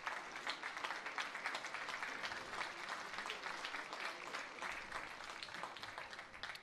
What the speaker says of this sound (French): Les applaudissements des supporters, du public ici dans ce stade de Parchal.